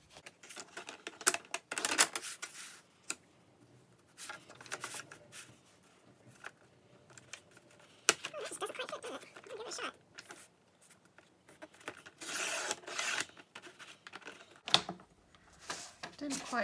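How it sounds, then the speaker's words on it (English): Scissors cut through scrapbook paper in short, crisp snips and rustling bursts, fairly close, with quiet handling noises between cuts. "So I'm going to cut my scrapbook paper to 5¼ inches wide."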